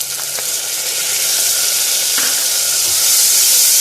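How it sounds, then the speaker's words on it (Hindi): Ginger garlic paste hitting hot oil with cumin seeds for sarson ka saag, giving a loud, close, continuous sizzle and hiss that builds slightly with a few faint stirring clicks. "अब 1 टेबल स्पून जो है मैं अदरक लहसुन का पेस्ट डाल रही हूँ"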